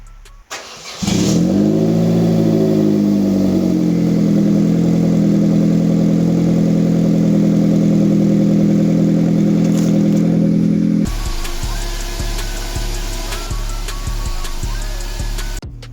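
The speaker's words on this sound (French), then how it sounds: "Je vais démarrer la Corso." An Opel Corsa engine cranks and catches after about a second, then settles into a loud, steady idle close by, with the engine note shifting and roughening during the last few seconds.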